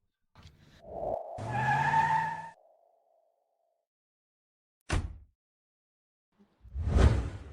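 A car sweeps past with a whooshing rush and a drawn-out skid, followed after a silence by two more short bursts of vehicle noise, with no voices.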